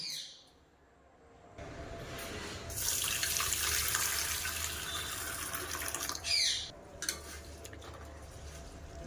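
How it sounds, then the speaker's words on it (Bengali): Red lentils are rinsed under a running tap, the water splashing in a steady, fairly close rush for several seconds before easing off, with a brief quieter gap and a few short bursts near the end. "প্রথমে মসুরির ডালটা নিয়ে খুব ভালোভাবে ধুয়ে নেব।"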